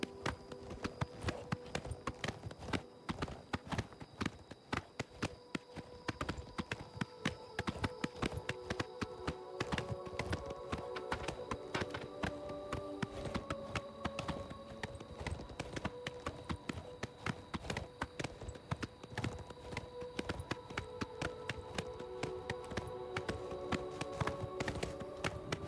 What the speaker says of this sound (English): I freaking love how fast this black horse is.